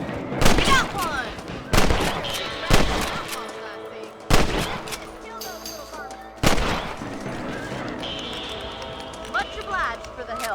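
Rifle shots while hunting rabbits in the Red Dead Redemption video game: about five loud, sharp cracks spaced a second or two apart, amid speech and hoofbeat-like footsteps.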